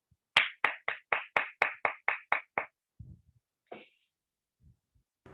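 A small group at a Toastmasters club meeting claps for the Toastmasters of the day, about ten distinct, evenly spaced claps, close and crisp, then stops, followed by a few scattered faint thumps and a brief voice.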